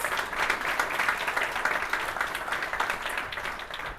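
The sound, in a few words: audience applause at sports awards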